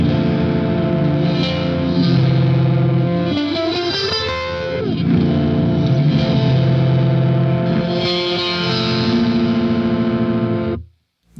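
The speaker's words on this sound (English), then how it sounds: "Next is reverse delay. sometimes called reverse reverb." A distorted electric guitar plays through a heavy reversed-delay effect, notes swelling in backwards and smearing together, loud and continuous before cutting off abruptly.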